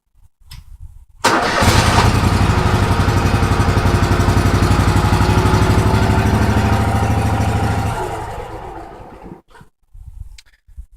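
A lawn mower engine fires up after a short pull, then runs loud and close at a steady idle for several seconds before winding down and cutting off.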